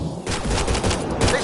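Rapid volley of gunfire from Mass Effect Andromeda, a dense burst of overlapping shots filling the whole moment, loud and close with combat noise around it.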